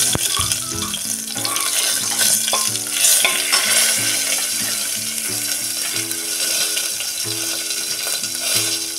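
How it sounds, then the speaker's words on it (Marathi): Dried red chillies broken into hot oil for spiced masale bhaat, a loud continuous sizzle with repeated rhythmic scraping and clattering strokes of a spatula stirring in the pan, close up and without talk. "म्हणजे त्या मिरचीचा स्वाद आपल्याला भातामध्ये छान लागतो। जरा वेळ परतून घेऊया।"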